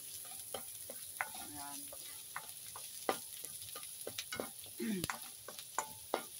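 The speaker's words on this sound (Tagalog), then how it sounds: "lagay ko na po yung bawang at saka yung bawang tsaka sibuyas" Garlic and onion sautéing in a home pan, a soft sizzle with intermittent clicks and scrapes of stirring, fairly quiet and with no talking.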